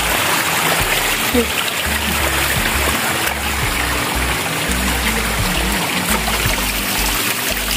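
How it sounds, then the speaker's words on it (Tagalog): Water flows along a road in a continuous trickling, splashing stream, close and fairly loud, with people talking over it. "Matubig ang daan."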